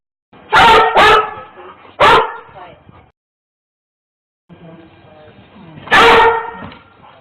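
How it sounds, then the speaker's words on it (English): A trained cadaver dog barks during a house search, giving a loud close pair of barks, then another, a few seconds of silence, and one more sharp bark over quieter background sounds. "They're highly trained to bark when they pick up scents."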